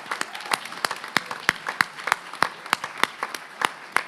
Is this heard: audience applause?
yes